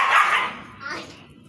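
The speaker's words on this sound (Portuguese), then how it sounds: "Os cachorros aqui latindo." Dogs barking at close range near a home aviary of Belgian canaries, one loud bark or yelp followed by a weaker second one as it trails off.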